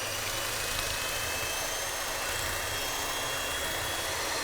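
Shardor budget hand mixer running on its turbo setting while whipping cream, a steady high-speed whirring drone that holds constant and fairly loud throughout, with no voices.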